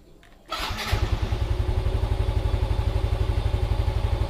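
A motorcycle engine cranks briefly, then catches and settles into a loud, steady idle with an even rapid putter, close to the listener.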